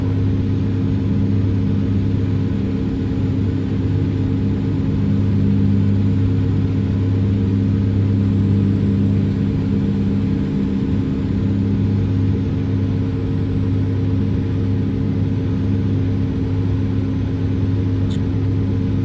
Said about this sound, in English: This is a motor made specifically to just bobtail and do burnouts and stuff like that